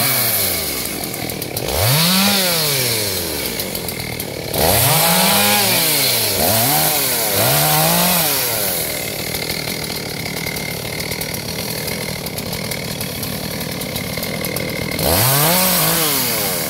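A GZ4350 chainsaw cuts into a large eucalyptus tree, loud and close, its engine revving up and down in repeated surges between a steady idle drone, with no voices.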